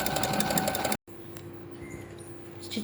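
A sewing machine runs an embroidery stitch, number 54, in a rapid, even mechanical whirr. It stops briefly, then quieter room hum follows with a soft tone.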